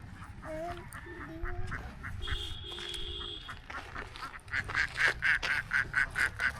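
A flock of ducks feeding along a dam's bank quacks nearby, scattered calls at first building to a loud rhythmic run of quacks toward the end, over a soft outdoor background.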